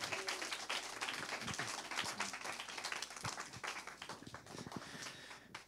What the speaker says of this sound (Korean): 우리가 이 시간 뜨거운 환영의 박수로 자리로 모시도록 하겠습니다